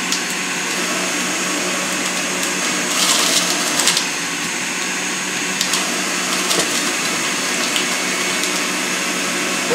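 Oster JusSimple Easy Juicer, a 900 watt juice extractor, runs steadily at close range with a continuous motor whine and grinding hiss as kale is pushed through, with a few brief louder surges.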